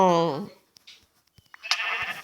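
A sheep bleats once in Minecraft, loud and close, a wavering nasal call, followed by quiet clicks and a burst of brief noisy sounds.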